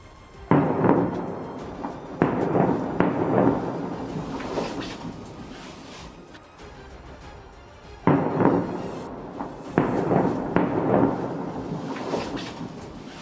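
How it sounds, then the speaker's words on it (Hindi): Several deep, booming airstrike blasts roll out in bursts at night, each rumbling and fading before the next group of heavy explosions hits. "इतने बम गिराए गए कि वहां एक साथ कई धमाके होते नजर आए"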